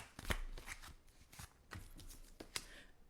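Tarot cards being shuffled by hand, with a string of quick papery riffles and slides in uneven bursts, close and clear, with no talking.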